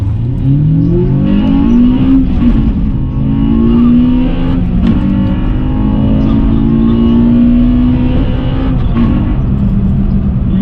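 Cars race from a standing start, a loud engine droning and revving up through rising pitch sweeps, with a gear-change break and a sustained close-up roar for about ten seconds.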